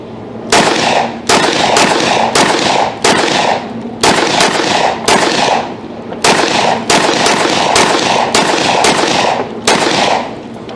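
A Smith & Wesson M&P 10mm pistol firing hot loads: loud, close shots in a steady rhythm, about fourteen sharp reports with brief ringing decay between them.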